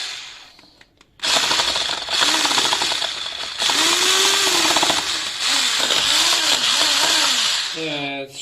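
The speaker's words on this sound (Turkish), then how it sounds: "bunu böyle katılaşana kadar çırpacağız" Electric hand mixer whipping cream until stiff for a homemade trileçe, a loud steady whirr starting after a brief quiet moment, with the beaters' pitch wavering as the cream thickens, running close and continuous until a short cutoff.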